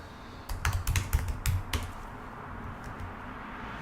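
Typing on a computer keyboard while entering a command in a server terminal, a quick burst of close, crisp key clicks followed by a few softer, scattered taps in a quiet room.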